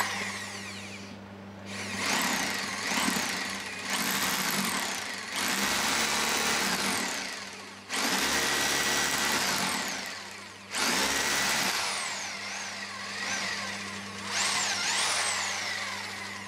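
Rotary hammer drill set to hammer-drill mode driving a masonry bit into masonry, a loud, close rattling roar in several bursts with brief pauses and a changing pitch as it spins up and down.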